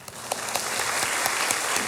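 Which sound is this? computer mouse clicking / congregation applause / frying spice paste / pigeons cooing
congregation applause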